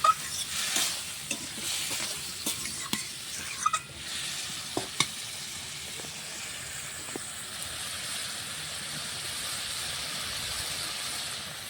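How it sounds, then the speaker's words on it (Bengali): Prawn curry stir-fried in a pan with a splash of water until it dries: a steady, close sizzle and hiss, with sharp spoon scrapes and clacks early on, then continuous frying, no talking. "দিয়ে ভালো করে কষবো যতক্ষণ না জলটা শুকনো হচ্ছে ততক্ষণ"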